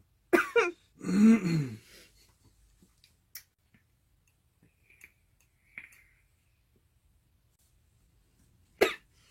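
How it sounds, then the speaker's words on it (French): A couple of harsh coughs after vaping nicotine near the start, then a few faint clicks and small noises in an otherwise quiet room, with a sharp sound at the end. "Je vais tousser parce que j'ai pas l'habitude de vaper avec de la nicotine."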